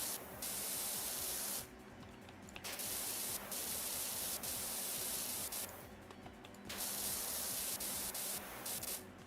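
A pressure washer spraying in the video game PowerWash Simulator, a steady loud hiss of spray in long bursts with brief gaps between them.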